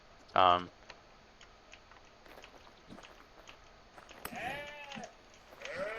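Sheep in the Vintage Story video game give a sharp bleat near the start and a couple of wavering bleats later, among faint ticking game sounds.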